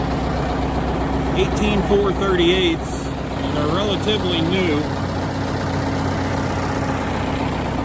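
A tractor engine runs at a steady low idle, a constant rumble beneath someone talking close by throughout.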